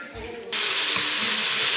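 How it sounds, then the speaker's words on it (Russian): Meat frying in a pan gives off a loud, steady sizzling hiss that begins abruptly partway in and continues to the end, with faint clatter underneath. "Мясо у меня уже жарится."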